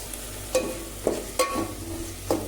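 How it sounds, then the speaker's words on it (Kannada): Ground masala paste of garlic, ginger, onion, tomato and coriander frying in a pan for soya pulao, a soft sizzle broken by four distinct metallic spoon clanks as it is stirred. "ಇದು ಹಸಿ ವಾಸನೆ ಹೋಗೋವರೆಗೂ ಹಿಂಗೆ ಮಿಕ್ಸ್ ಕೊಡಬೇಕು"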